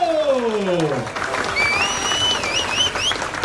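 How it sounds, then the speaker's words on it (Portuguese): A crowd at an evening political event in Fortaleza applauds as the mayor is introduced. Sustained clapping and cheering fill the hall, with a voice speaking over the start. "vamos receber com a salva de palmas agora o prefeito que mora no coração do povo de Fortaleza, Roberto Cláudio."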